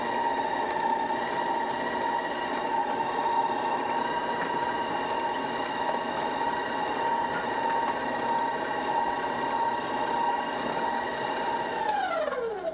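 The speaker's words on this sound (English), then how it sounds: "These mixers are wonderful, but they do need help sometimes." An electric stand mixer beats eggnog kringla dough with a steady close whirring hum, then winds down at the end as it is switched off; no talking.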